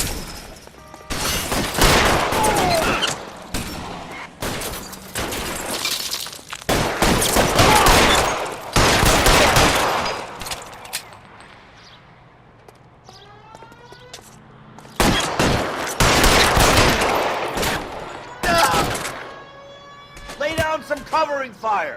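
Bursts of gunfire ring out during a police shootout in L.A. Noire, loud and repeated in clusters, with a siren wailing in places and voices shouting commands between the shots.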